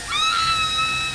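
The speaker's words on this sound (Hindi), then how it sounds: "इसके अंदर है हेयर ड्रायर की आवाज और वो चीख।" A woman's high, wavering scream plays back from an iPod recording, loud and sustained for about a second over faint background noise.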